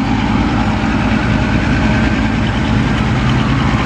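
A tugboat engine on the Pasig River runs with a loud, steady low diesel rumble throughout, close and continuous, with no voices over it.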